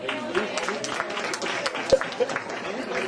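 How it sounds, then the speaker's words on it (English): At a spoken-word poetry lounge, an audience claps in scattered, moderate applause while a performer's voice runs over it. "Go ahead and clap on that."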